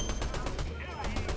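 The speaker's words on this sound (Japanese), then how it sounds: "確かに今銃声したよね" Gunfire in the Fortnite video game: a quick burst of several sharp shots in rapid succession, loud and close, with a brief gap between volleys.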